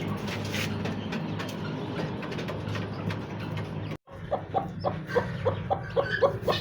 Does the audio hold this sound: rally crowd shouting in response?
no